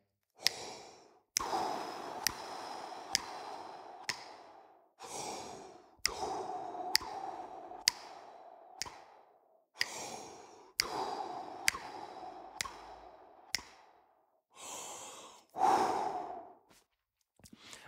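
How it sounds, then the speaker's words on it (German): A horn player's breathing exercise: a series of deep, audible breaths in a steady metered pattern, quick inhales followed by longer exhales, close and clear, repeated over and over with no talking. "Wir atmen auf die 5 ein und atmen dann 4 Schläge aus."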